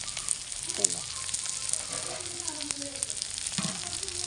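Onion and green chili frying in a pan make a soft, continuous sizzle with occasional spatters and faint stirring. No talk, fairly quiet throughout.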